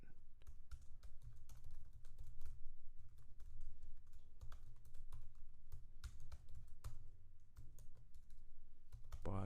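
Code is typed on a computer keyboard in a steady run of quiet, close key clicks, with occasional sharper taps and no talking over them.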